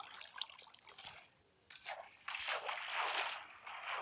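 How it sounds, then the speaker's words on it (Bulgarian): Splashing through water in Minecraft, soft watery trickles and swishing bursts that come and go, then a fuller, continuous splashing toward the end, fairly faint and without talk. "аз скачам по водата"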